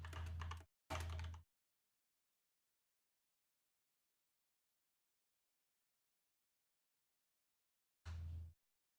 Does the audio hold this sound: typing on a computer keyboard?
yes